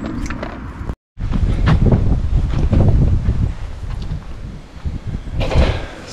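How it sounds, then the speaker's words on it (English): Blustery wind buffets a microphone outdoors beside a moored narrowboat, a loud continuous rumble that cuts out for a moment near the start, then surges back and keeps roaring to the end. "just hiding from the wind a little bit"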